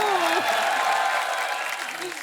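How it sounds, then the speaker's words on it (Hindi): Studio audience on The Kapil Sharma Show applauds as guests are welcomed, a steady wash of clapping and cheering that fades slightly, with a host's voice over it. "आप सबकी जोरदार तालियों के बीच प्लीज वेलकम"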